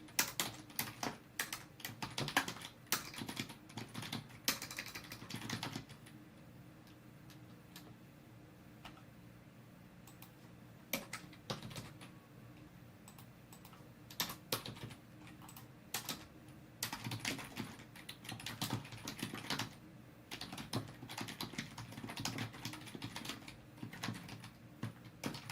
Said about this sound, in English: I'm just going to type out my understanding here on in the IDE